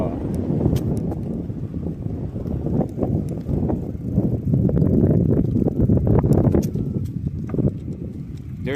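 Gusty outdoor wind buffets the microphone in loud, continuous low rumbling bursts throughout, with a voice talking faintly underneath.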